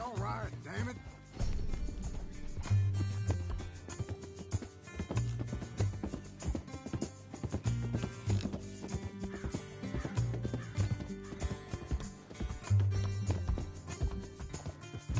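A horse gallops in Red Dead Redemption 2, its hooves pounding a steady rhythmic clip-clop under game music and effects, with characters and a commentator talking over it throughout.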